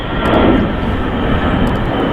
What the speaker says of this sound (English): we're going to get a lot of aeroplanes taking off and landing